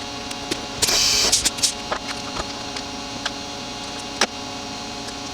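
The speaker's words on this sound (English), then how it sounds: "So that's changing the tool." A CNC machine changes a tool, with a sharp pneumatic hiss and a series of scattered clicks and ticks over a steady mains hum.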